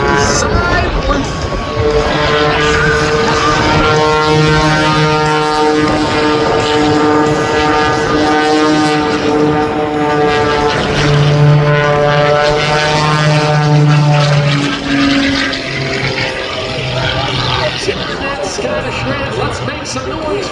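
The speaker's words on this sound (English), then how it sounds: "he's flown across the world in this very airplane" An aerobatic propeller airplane performs at an October 2022 air show in North Little Rock, its engine droning loud and steady with rising and falling pitch as it maneuvers, and an announcer talks over it throughout.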